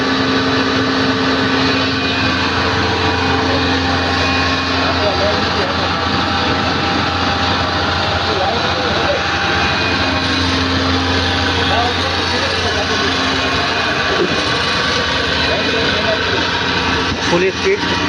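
An MOPX 207 marine oil separator and its pump run at full speed, giving a loud, unbroken mechanical drone with a steady hum for about eighteen seconds, close and constant throughout.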